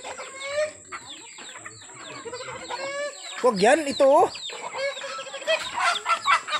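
Chickens cluck and squawk nearby in uneven bursts, with people talking over them.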